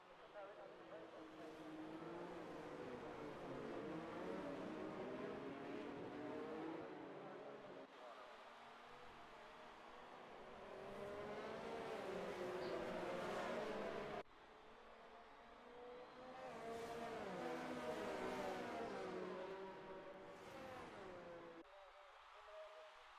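Race cars in an F1 racing game (Italy round) running in a pack behind the safety car, a continuous engine drone rising and falling under a commentator's voice.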